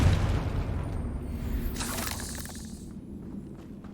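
A Confringo blasting spell cast in the Hogwarts Legacy game, heard as a loud whooshing burst around the middle that fades out over a steady low rumble of game background.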